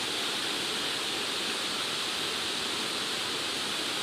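A large river flows nearby, giving a steady, dense rush of water that stays constant and unbroken throughout with no other sounds.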